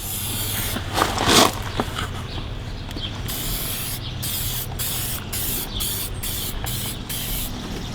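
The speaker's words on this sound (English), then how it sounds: "just an old piece of cardboard or anything, and just give it a good spray" An aerosol can of aluminum cleaner hisses in a strong burst up close, followed by several short, sharp spray puffs in an irregular rhythm.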